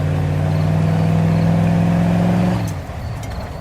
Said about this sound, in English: you're a little surprised to hear the roar of a Jeep engine approaching up 4th Street